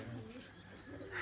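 A large racing pigeon kept for Punjabi pigeon-flying contests coos in low, throaty murmurs that run steadily through the moment, fairly close, with lighter chirps from other birds mixed in behind.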